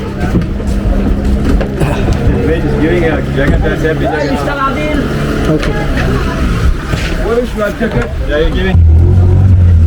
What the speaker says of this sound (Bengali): আমাদের বোট চালা স্টার্ট হলো সাফারি